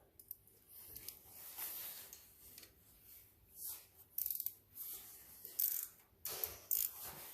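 A ratchet wrench tightens a bolt on the clutch of a 1999 Kawasaki Vulcan 1500 Nomad motorcycle, giving several short bursts of quick clicking with pauses between strokes, fairly quiet and close, with no talking.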